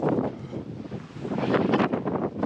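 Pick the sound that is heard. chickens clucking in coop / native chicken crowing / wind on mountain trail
wind on mountain trail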